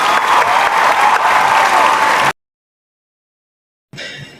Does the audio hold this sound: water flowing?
no